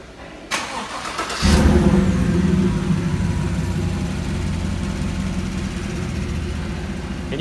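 A 2019 Chevy Silverado with its stock muffler cut off fires up loudly, then settles into a raw, rumbling idle that carries on close by with no talking.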